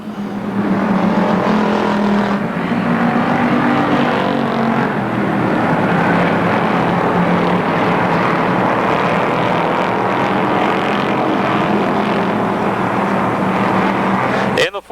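Stock cars roar around the Motordrome Speedway oval in a dense, continuous engine drone during a racing show, loud and unbroken, while an announcer calls the laps over it.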